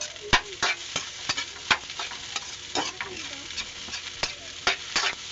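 Garlic fried rice being stirred in a pan, with repeated sharp scrapes and clanks of a utensil against metal over a steady, soft frying sizzle, close up and alone.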